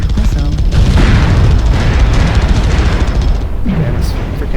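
Missile explosions in MechWarrior Online boom in a loud, continuous barrage, dense rumbling blasts crowding the whole stretch with only a brief dip near the end.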